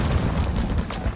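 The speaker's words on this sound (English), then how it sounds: "Throw a grenade. Grenade's flying. Grenade out." A grenade blast in Call of Duty: a dense, rumbling low boom that fills the short moment, with no voice over it.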